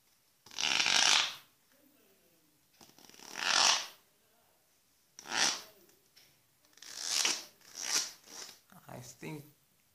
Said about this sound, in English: Let's shuffle them and see how the shuffling sounds.